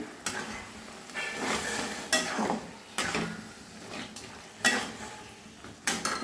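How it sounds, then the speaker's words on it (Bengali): Taro leaves cooking in a pan for a village-style hilsa fish head dish, with a soft background sizzle broken by repeated scraping strokes of a spatula stirring, several sharp clatters spaced roughly a second apart. "তিন চার মিনিট মতো আমি একটু রান্না করে নেব কচু শাক"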